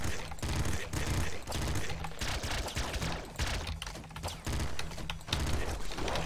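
Rapid triple machine gun fire in the Nuclear Throne video game, dense continuous rattling bursts with clicky mechanical game effects, steady and moderately loud across the whole stretch.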